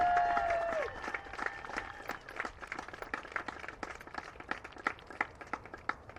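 A crowd at a college sports event applauds a departing senior player, with sustained clapping that thins into sparser, rhythmic individual claps, heard at moderate distance and fairly quiet.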